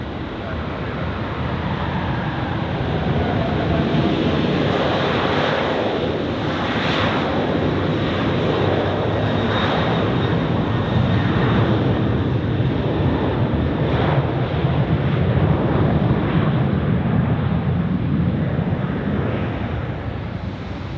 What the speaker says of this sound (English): American Air Europa has received takeoff clearance, so here it goes.